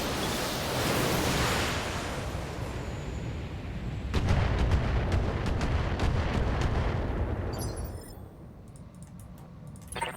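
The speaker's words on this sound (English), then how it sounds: "can drop artillery on the Scorpion" Artillery barrage landing on a Scorpion mech in the Battletech video game: a dense run of booming impacts and crackling blasts rolling for several seconds, loud and continuous, then tapering into quieter rumble with a few sharp clicks.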